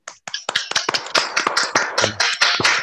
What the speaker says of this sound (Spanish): los convoco a un aplauso para Gabriela